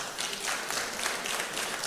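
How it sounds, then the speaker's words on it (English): An audience applauds at a money summit, a dense, steady patter of many hands clapping at moderate distance, continuous for the full two seconds with no talk over it. "Please, a round of applause."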